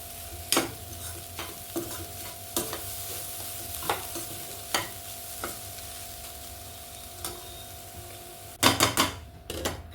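An egg curry is stirred in a pan: sharp ladle taps and scrapes land every second or so over a low simmering hiss, ending in a quick cluster of clattering strokes, near and without speech.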